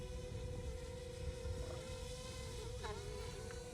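Small drone motors spin up under throttle from a DualSense PS5 controller, giving a steady high buzzing whine throughout with a faint pitch wobble near the end, moderately close.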